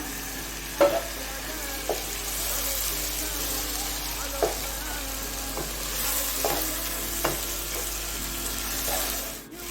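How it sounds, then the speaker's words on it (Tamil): Boiled, cut goat intestine frying in masala in a pan, a steady broad sizzle running throughout with a few sharp clanks of a spoon stirring against the metal, no talking. "அப்புறமா ஏற்கனவே பாயில் பண்ணி கட் பண்ணி வச்ச அந்த குடலை இது கூட ஆட் பண்ணிக்கலாம்."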